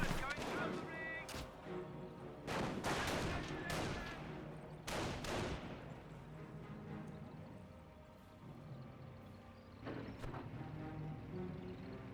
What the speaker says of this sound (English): I thought I heard a mortar firing away over here